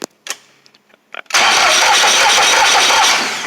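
A small 2016 Kohler CH6720H engine on a stump grinder cranks and fires at about 1.3 seconds, then runs loud and steady close by. A few quiet clicks and knocks come before the start.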